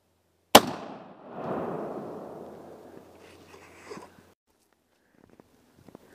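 Single loud shotgun blast firing a Federal 3rd Degree 3.5 inch shell outdoors at a 20-yard pattern target, a sharp crack that decays into a long rolling echo, then quiet with a few faint clicks.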